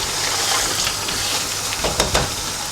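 Mutton pieces fry in masala over a high flame for a mutton jahangiri curry, a loud, steady sizzle and hiss with a couple of sharp stirring scrapes near the end, no talking.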